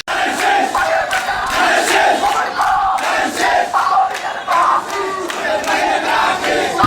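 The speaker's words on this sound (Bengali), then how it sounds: "এ সময় করতালি ভরা স্লোগান দেয় বাকুলিয়ার মানুষ" A crowd of local people at an outdoor political gathering in Bakalia chants slogans in unison, loud and close, with rhythmic clapping pulsing through the repeated shouts for the whole stretch.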